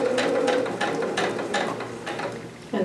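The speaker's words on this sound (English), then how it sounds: "Stitch, back stitch a little, and then stitch down to that dot." A domestic sewing machine stitching fabric with a brief reverse back stitch, a loud close mechanical whir with rhythmic clatter that pauses and restarts near the end, no voice.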